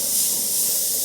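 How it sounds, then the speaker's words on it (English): Airbrush spraying paint from a short distance, a continuous close, even hiss of compressed air and paint with no breaks. "just from a distance try and spray directly over it"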